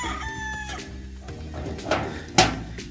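A rooster crows loudly nearby while chickens cluck and squawk around it, with a sharp burst of clucking near the end.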